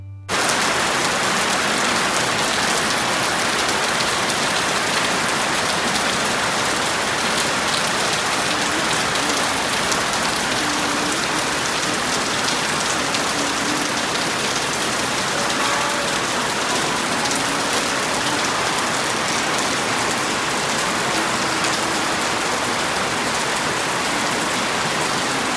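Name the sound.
heavy rain falling outside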